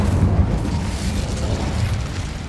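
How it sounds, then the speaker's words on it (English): In Hogwarts Legacy, an Incendio fire spell erupts as a loud, sustained roaring whoosh of flame with heavy low rumble, close and continuous throughout. "Incendio."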